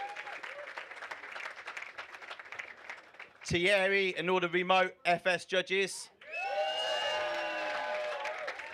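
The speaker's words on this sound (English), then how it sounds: "a very, very well applauded there" Audience applause and cheering at the British Indoor Skydiving Nationals, rising in a full burst after someone speaks over quieter crowd noise, then continuing as steady clapping under further talk.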